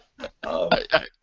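A person makes a short, sputtering mouth imitation of a fart, a few brief buzzy bursts in quick succession.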